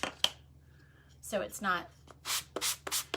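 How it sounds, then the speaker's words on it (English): A sanding block is rubbed lightly over painted wood pieces in short, close, scratchy strokes, several quick brushing passes in a row after a few quiet spoken words. "Just a quick little brush with a sanding block."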